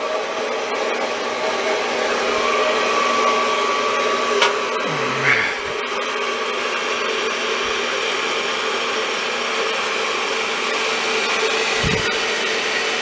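A Harbor Freight band saw cuts with no hand pressure, the blade fed only by the weight of its own frame, giving a steady, close motor-and-blade drone that holds an even level throughout, with no talking.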